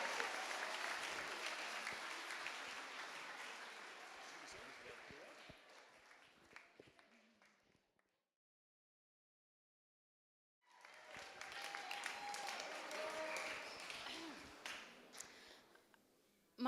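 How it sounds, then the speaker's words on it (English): Wedding guests at a reception applaud for a speaker, lively crowd clapping with some cheering that fades out, then a gap of silence before clapping resumes with voices over it. "Big round of applause for John."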